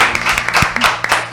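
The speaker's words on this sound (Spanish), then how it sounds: "Eduardo Aliberti, por favor, un aplauso, damos aquí." A studio audience claps for a guest during a radio interview, a brief burst of loud, close applause with distinct individual hand claps.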